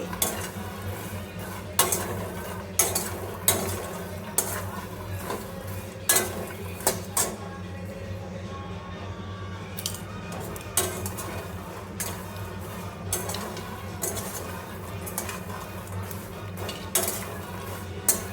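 Makhana (fox nuts) frying and being stirred in a pan, light rattling and scraping of the nuts against the metal with repeated sharp spoon clinks over a faint, steady sizzle, close and continuous without speech.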